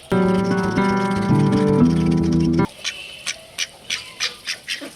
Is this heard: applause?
no